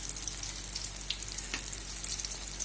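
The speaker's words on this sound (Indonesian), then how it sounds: "Lalu kita goreng." Eggplant pieces frying in hot oil in a pan, giving a steady, close crackling sizzle with small pops throughout.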